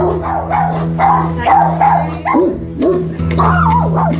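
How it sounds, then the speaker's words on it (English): A dog barks and yips repeatedly up close, loud and agitated, with whiny rising tones between barks over a steady low hum. "Anyone who tries to enter his home is met with a barrage of barking."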